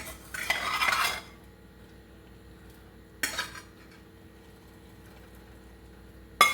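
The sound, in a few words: scooping and scraping food out of a pan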